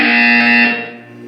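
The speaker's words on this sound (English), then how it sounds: "When you hear the buzzer, look up at the ceiling." A loud, steady electronic buzzer tone from the video game Portal 2 sounds continuously, then fades slightly toward the end; no voices.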